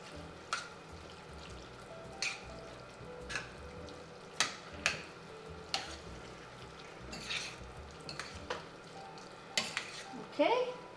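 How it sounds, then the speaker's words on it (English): Musaka sauce with carrot is stirred in a pan, a spoon scraping and tapping in an irregular rhythm over a soft, constant sizzle, quiet and close. "Now mix it in."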